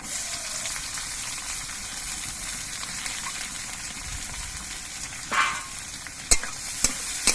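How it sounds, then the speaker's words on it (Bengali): Sliced onions go into hot oil where garlic is already frying for a tilapia curry, giving a steady low sizzle. A few sharp clinks and stirring scrapes sound near the end. "এবার এর মধ্যে কোচানো পেঁয়াজগুলো দিয়ে দিচ্ছি"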